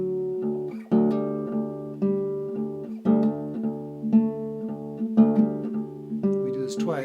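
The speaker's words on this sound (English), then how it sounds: "this riff where he's sliding along the fourth string" An acoustic guitar in dropped D tuning plays a repeating low riff with slides along the fourth string and quick hammered notes, phrases restarting about once a second, close and clear.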